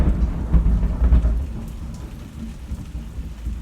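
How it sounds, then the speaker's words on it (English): Thunder rolls low and heavy during a thunderstorm in Hartford, rumbling loudly at first and then fading under steady rain. "That was thunder. We are having a thunderstorm here in Hartford."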